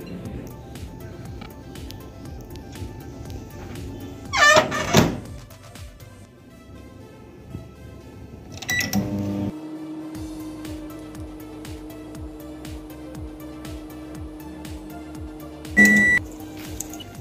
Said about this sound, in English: I'm going to keep it in microwave oven for 20 to 30 seconds.